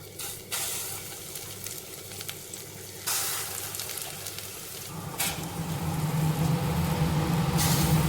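Small vadas frying in hot oil, giving a loud, bubbling sizzle that rises in bursts as pieces drop in and then settles into a steady, close crackle, growing fuller toward the end.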